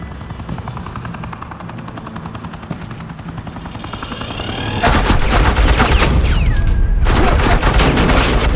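Suppressing gunfire in Batman: The Enemy Within, Episode 5 by Telltale, starts quietly behind a helicopter drone, then erupts into loud, continuous automatic fire with a short break.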